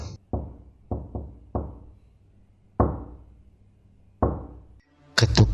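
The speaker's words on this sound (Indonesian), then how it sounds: "Ketukan perlahan tapi sangat jelas" Slow, deliberate knocks on a bedroom window at night, about eight sharp raps in uneven clusters separated by quiet gaps, close and distinct, followed by a louder burst at the end.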